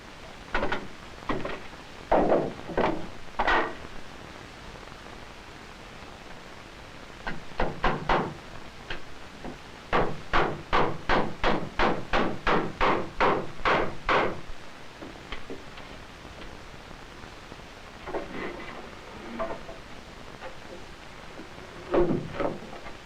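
A hammer drives nails into wooden joists while building a family fallout shelter, sharp knocks coming in quick rhythmic bursts, with one long run of about a dozen even blows in the middle.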